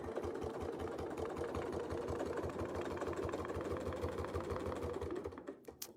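A sewing machine stitches fabric in a heart shape, running steadily at an even rapid pulse for about five seconds before stopping.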